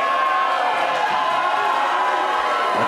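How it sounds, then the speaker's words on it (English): Wrestling fans at a live pro wrestling show cheer for Shareef Morrow during his match against Big Cat Scott Henson, a steady broad roar of crowd noise filling the whole moment without clear individual voices. "The crowd loving Shareef here tonight."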